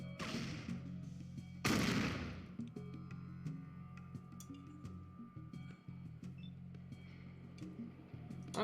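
Video game gunfire rings out as a sharp, loud blast near the start and a bigger burst about two seconds in, with smaller cracks and clinks over a low steady hum.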